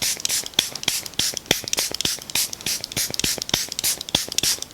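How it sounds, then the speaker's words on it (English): Charlotte Tilbury Airbrush Flawless Finish setting spray misted onto skin in a rapid series of short, close pumps, each a crisp hissing burst repeating steadily with no voices. "Charlotte Tilbury's Airbrush Flawless Finish Spray."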